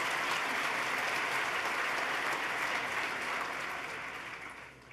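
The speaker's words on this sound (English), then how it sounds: "Let's give her another round of applause," A state of the state address audience claps at length, a broad, even wash of applause that holds steady and then fades out toward the end.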